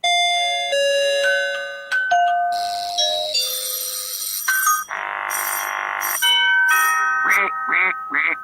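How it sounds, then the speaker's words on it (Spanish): A doorbell rings on a radio broadcast, a sequence of bright chiming tones followed by a buzzy electronic burst and a few short quacking chirps, loud and alone with no talking. "El timbre."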